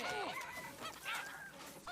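Cartoonish chickens clucking and squawking in the South Park Phone Destroyer mobile game, a few quick bird calls in a short, quiet burst.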